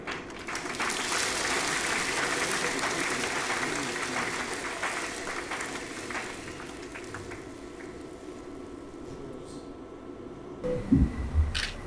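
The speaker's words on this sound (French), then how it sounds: "Est-ce qu'on peut l'applaudir, s'il vous plaît?" An audience at a company's 20th-anniversary celebration applauds the minister stepping up for the closing words. The clapping is long and steady, thins out near the end, and a few close knocks and handling noises follow.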